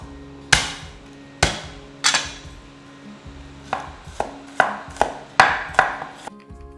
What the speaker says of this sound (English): Chop 2 cloves of garlic